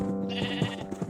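Sheep in a pen in a video game bleat in an overlapping, wavering chorus, close and fairly loud, with no talking.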